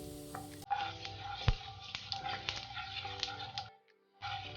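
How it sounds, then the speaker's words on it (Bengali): Whole cumin seeds and asafoetida sizzle loudly in hot oil and ghee for jira aloo, a steady close crackle with stirring clinks and a sharp knock. The sizzle cuts out briefly before resuming. "এবার দিয়ে দেব 1 চামচ গোটা জিরে"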